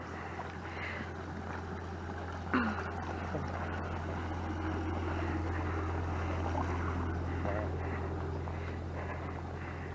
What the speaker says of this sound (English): Lovely boat, as you can see.